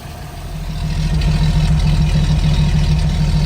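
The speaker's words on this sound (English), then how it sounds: "Sounds pretty good for an inline 6" A 1978 Toyota FJ40 inline-six idles nearby with a steady, throaty low rumble that rises during the first second and then holds an even, continuous beat.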